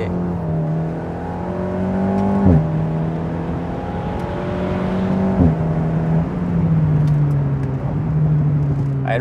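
Alpine A110 Ravage sports car driving hard, its engine revving up and down in long rising sweeps with sharp gear shifts about every three seconds, loud and close with a steady throaty drone throughout.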